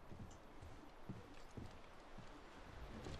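Horse hooves clip-clop in The Last of Us Remastered, a faint, steady walking rhythm of soft thuds under low background ambience.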